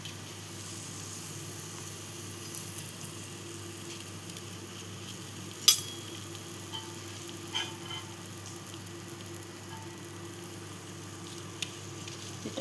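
Potato and poha cutlets fry in a pan with a soft, even sizzle throughout, broken by a few sharp clicks and taps of a utensil; no voices.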